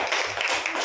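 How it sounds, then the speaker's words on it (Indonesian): Short, close burst of clapping from a class of students during an eighth-grade democracy project presentation, a fraction of a second of dense hand claps. "Kasih tepuk tangan."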